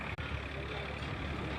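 Mini tractor engine running steadily on a Hosur farm, a continuous low mechanical rumble close by with no break except a brief dip near the start.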